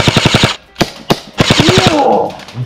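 Airsoft gun firing BBs during an outdoor skirmish: a rapid close burst of sharp snapping shots, a pause, two single shots, then another fast volley that trails into a low rumble.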